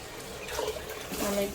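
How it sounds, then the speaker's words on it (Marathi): Hot water poured from the side into a cooking pot of sautéed dal khichdi, a soft splashing pour that swells toward the end, with faint kitchen noise throughout. "आता आपण ते गरम पाणी यामध्ये ओतू."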